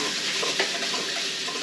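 Wet squelching and rubbing as seasoning is worked by hand into abalone in a bowl, soft, close and continuous with a couple of slightly sharper squishes, no talking.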